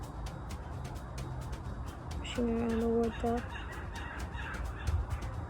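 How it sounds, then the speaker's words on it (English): A couple of short honking squawks from birds outdoors, faint and somewhat distant, rise over a steady background hiss while water is pushed around with a brush and a quiet voice talks nearby. "Then I'm hearing those birds squirking."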